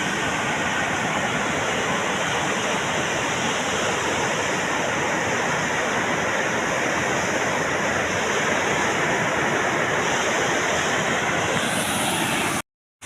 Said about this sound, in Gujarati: ડેમ ઓવરફ્લો થઈ ગયો છે